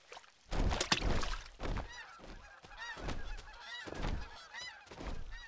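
A cartoon goose from an animated series honks loudly and repeatedly in short, nasal blasts, several calls in quick succession with brief gaps, close and clear with no talking.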